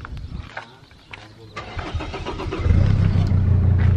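Engine of a converted ambulance cranking and catching, settling into a steady, loud low idle that rises and holds near the listener.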